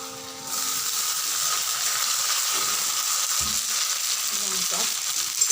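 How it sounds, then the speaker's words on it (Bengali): Chopped tomatoes dropped into a hot frying pan raise an immediate, steady sizzle that stays loud and close for several seconds, with faint stirring scrapes underneath. "এখন আমি দিয়ে দিব টমেটো কুচি"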